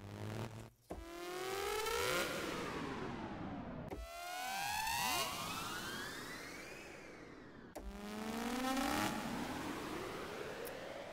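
A synthesizer "Cyber Siren" patch sweeps up and down in three repeated wailing cycles, each restarting abruptly, electronic and steady with no voices.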